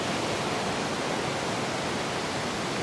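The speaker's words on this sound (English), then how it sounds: "And the waterfall's right there." A waterfall near a mill and sculpture site, a steady broadband rushing roar that stays constant throughout with no voices.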